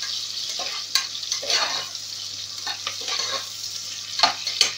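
Sliced onions frying in oil for meal maker biryani, a steady close sizzle broken by repeated spatula scrapes and stirring knocks.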